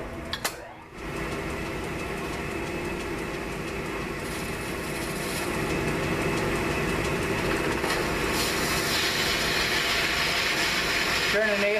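A metal lathe turns a short shoulder down to 3/4 inch on a part with a boring bar setup, a steady close mechanical whirr and cutting grind running continuously after a brief knock at the start.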